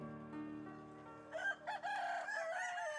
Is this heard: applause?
no